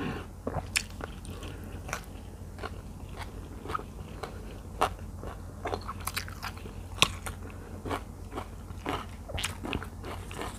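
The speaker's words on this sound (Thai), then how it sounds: "กินอย่างเดียว" Someone eats spicy Thai tilapia salad with sticky rice and fresh vegetables close to the microphone, with a steady run of crisp bites, crunches and chewing clicks throughout.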